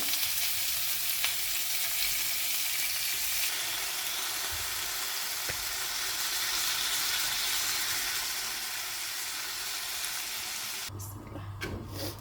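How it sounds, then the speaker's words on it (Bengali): Fish fries in hot oil over medium heat, giving a steady, broad hiss of sizzling that holds for several seconds with faint scraping before it cuts off near the end. "প্রথমে একেবারে মিডিয়াম আঁচে ভাজতে হবে"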